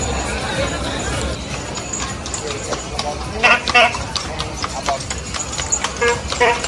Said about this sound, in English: we're sitting right here and the horse just came by